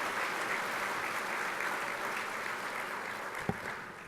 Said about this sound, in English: how about a round of applause from our friends from the Great Place?